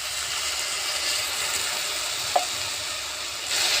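Sugar sizzles in a pan with a splash of water added, a steady hiss and bubbling crackle with a single sharp clink midway and the sizzle rising slightly toward the end.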